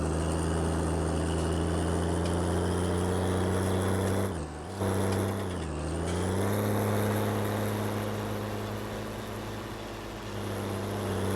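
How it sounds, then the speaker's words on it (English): Heavy tractor engine in Farming Simulator 19 on The Great Plateaus map, labouring under a large load: a loud, steady low drone that dips briefly twice around the middle before climbing back to a sustained strained roar, with no talk. "It's a strong tractor,"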